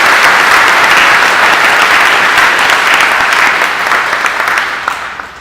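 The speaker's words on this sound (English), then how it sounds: "Can we give these people a round of applause" Audience at a 2018 graduation ceremony giving a sustained round of loud applause that fades slightly toward the end.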